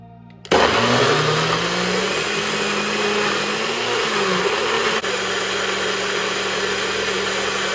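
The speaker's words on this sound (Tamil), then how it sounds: "பிளெண்ட் பண்ணிட போகிறேன்." A blender runs steadily on a healthy smoothie with celery and water, starting abruptly and holding a loud, continuous whirring motor tone with a slight pitch dip partway through.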